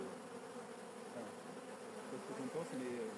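Honeybees buzz in a dense, continuous hum while working across a hive frame during a colony inspection, close and steady with faint individual wingbeat whines rising now and then.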